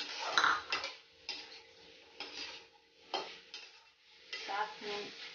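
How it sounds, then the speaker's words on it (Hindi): Chopped capsicum goes into a pan for veg cheese pasta and is stirred, giving soft scraping strokes at a steady rhythm over a light sizzle, close and quiet with no talk. "शिमला मिर्च डाल देंगे"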